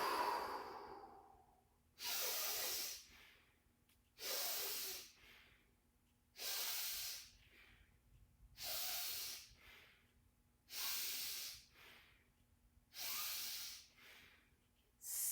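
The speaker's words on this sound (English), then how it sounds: "So on 3, breathe out." Deep breaths during a qigong session come in a slow, regular cycle, about half a dozen long, loud, airy exhalations, each lasting a second or more and separated by quiet gaps.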